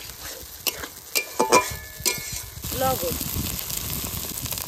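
Spices frying with a hilsa fish head in a pan for a Bengali banana flower curry, giving soft sizzling and stirring scrapes while someone speaks over it.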